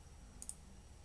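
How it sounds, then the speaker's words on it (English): Two quick, faint mouse clicks in a quiet room, close together and alone. "right click on the item name"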